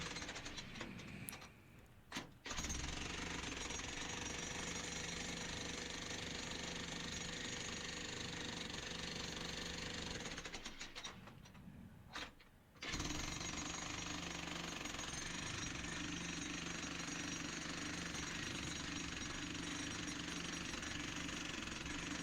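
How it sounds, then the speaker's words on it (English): A small jackhammer breaks rock inside a tunnel, pounding steadily and loudly at close range with two brief pauses between bursts. "And here we go with the little jackhammer."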